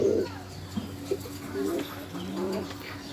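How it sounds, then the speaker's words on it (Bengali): Pigeons in a village pigeon house give repeated low, throaty coos at close range, several soft calls overlapping through steady background murmur. "বাহারি রঙের কবুতরগুলো দেখলে সত্যি মনটা ভরে যায়"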